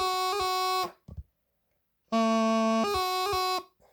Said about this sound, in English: What we want in the F doubling is a sound like this.